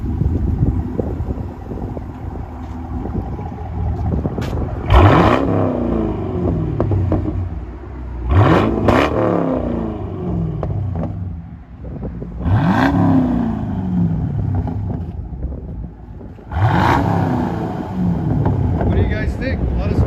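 A 2012 Chevy Camaro SS with a 6.2L V8 and Flowmaster Super 10 dual exhaust rumbles at a steady idle, broken by four sharp revs spaced a few seconds apart, heard nearby outdoors with wind noise.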